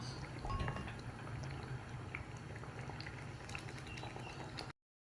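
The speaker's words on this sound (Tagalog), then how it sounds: "kumukulo na ang ating nilulutong sinantol" A pot of coconut milk stew with cotton fruit (sinantol) bubbles at a steady simmer, with soft popping and gurgling close by before it cuts off.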